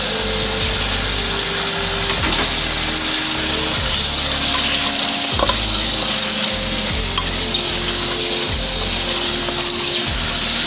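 Chicken meat sizzles steadily in a pan of tomato sauce while being stirred, giving a loud continuous frying hiss with occasional scraping and clinking of the utensil against the pot.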